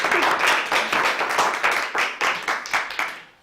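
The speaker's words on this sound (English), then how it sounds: "So round of applause for Lisa." Audience clapping at a talk, steady and close, with distinct sharp hand claps over several seconds before fading at the end; no talking over it.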